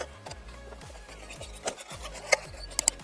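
A car jack under a vehicle being cranked by its arm, a repeated scraping, ratcheting grind in steady strokes, close up, with a few sharp metallic ticks near the end.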